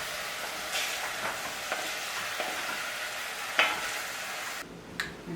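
Ground meat browning in a hot pot for homemade chili, giving a steady, close sizzle and frying hiss throughout, broken by a few louder stirring scrapes and a brief clink near the end.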